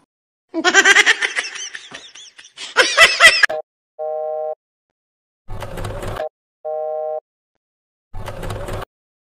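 A cartoon phone rings unanswered with two short, evenly spaced electronic ring tones, set between louder chattering bursts and clattering noises.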